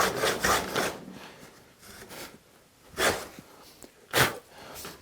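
Hand saw cutting a dado groove into maple, a rough rasping cut in irregular bursts of strokes, some strokes much louder than others, close up with no talking.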